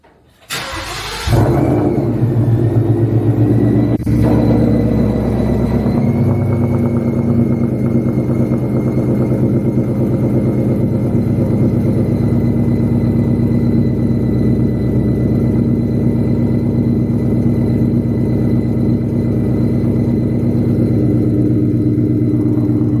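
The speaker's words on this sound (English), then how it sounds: "So we're going to do a cold start" An ESS G2 supercharged car engine with a new exhaust cold-starts, cranking and catching, then settles into a loud, steady rumbling idle with a deep exhaust tone that continues unbroken.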